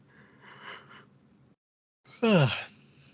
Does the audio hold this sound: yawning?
yes